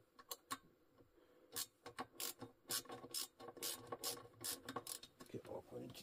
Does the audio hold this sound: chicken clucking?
no